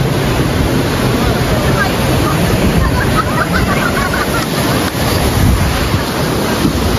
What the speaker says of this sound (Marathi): लाट येईल.